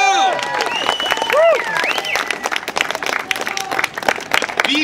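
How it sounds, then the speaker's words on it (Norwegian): An audience at a talk on drug policy breaks into loud applause mixed with cheering and shouting voices, a dense, close wash of clapping with voices rising over it. "Skal vi klappe en gang?"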